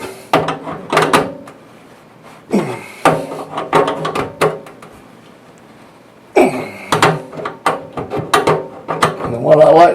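A wrench tightens a kitchen sink basket strainer, making bursts of metallic ratcheting and grinding clicks close by, with quiet gaps between the bursts.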